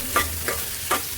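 Onion stirred and frying in a pan for vegetable fried rice in a small home kitchen, three brief scraping stirs over a steady close sizzle, no voices.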